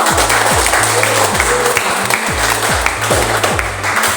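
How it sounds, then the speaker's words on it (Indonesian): Students in a classroom clap at the end of a lesson, a loud, close round of applause with a steady rhythmic beat running beneath it throughout. "Ayo kita tepuk tangan."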